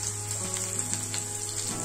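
Curry leaves sizzling in hot oil with onion in a pan, a steady close crackling fry that runs without pause and without talk.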